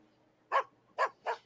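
A dog in an X-Files episode gives three sharp, short barks in quick succession, moderately close, against a quiet background.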